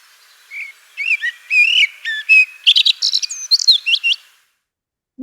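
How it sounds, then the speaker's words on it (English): A blackbird sings in full song, a clear run of fluting whistles and twittering phrases that rise and fall for several seconds, close and alone with no other sound. "But a blackbird in full song is something really special."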